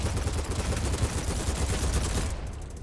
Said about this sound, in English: So here, we'll just fire at this wall real quick.